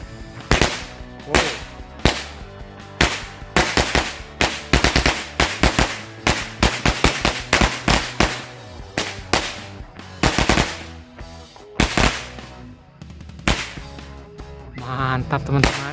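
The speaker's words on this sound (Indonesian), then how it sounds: "selanjutnya kita nyalain mercon korek gepokan" A string of mercon korek firecrackers set off for Lebaran bursts in a loud, rapid crackling series of sharp bangs, with irregular pops continuing for about sixteen seconds.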